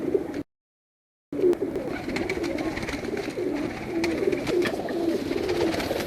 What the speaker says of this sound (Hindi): ये जी एक फिरोजपुरी कबूतर है